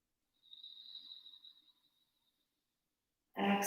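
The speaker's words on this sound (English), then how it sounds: "breathing in through the nose." One slow, gentle inhale through the nose during a calm yoga session, a soft airy hiss lasting over a second in near silence, followed by a sudden loud thump.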